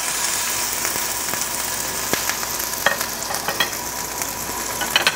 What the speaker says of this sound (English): And we sear the first side.